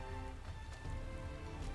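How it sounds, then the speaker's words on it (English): Steady rain falls in Final Fantasy XIV: Shadowbringers, a soft, even hiss of drops on surfaces that carries on quietly with no voices. "as you can see, it's raining and there is no sunshine"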